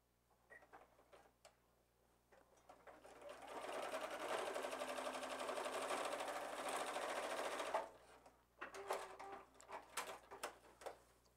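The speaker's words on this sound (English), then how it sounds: "I'm just gonna stitch a straight line straight down in front of me." A sewing machine stitches a straight seam through fabric, building to a steady, fast mechanical whir for about four seconds before stopping, with light handling clicks and taps around it.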